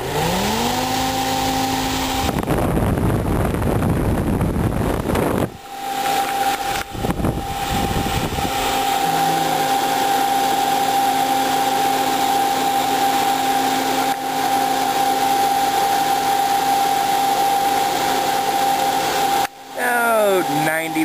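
Electric motor rated at 3,000 RPM starting up, its whine climbing in pitch before settling into a loud, steady hum. A burst of harsh noise and a few abrupt cuts interrupt it early on, and it runs on alone.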